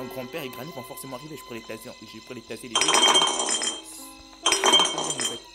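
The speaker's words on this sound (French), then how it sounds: "le seul bruit que le grand-père reconnaît, c'est lorsque c'est le bruit de son vase qui tombe" A vase falls and shatters twice in Granny Chapter Two, each a loud burst of breaking glass and ceramic with scattered clinks. Someone speaks over the first part before the crashes.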